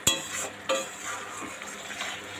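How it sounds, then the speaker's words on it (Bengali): Spice paste with salt fries in oil for a meat dish, a steady close sizzle broken by two sharp spoon scrapes against the pan. "মশলাটা একটু কষা হোক"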